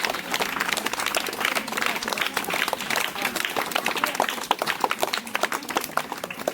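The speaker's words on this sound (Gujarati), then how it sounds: "ભૂલકાઓને વિનંતી છે કે તાળીઓના ગગડાટથી આપણે એમના વધામણા કરશું." Children clap at a village school admission ceremony, a scattered, uneven patter of small hands that goes on steadily, with faint crowd murmur underneath.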